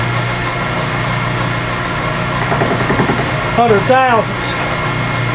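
A milling machine grinds back and forth across a part for a band saw guide, giving a constant close mechanical whir and hum as someone talks over it.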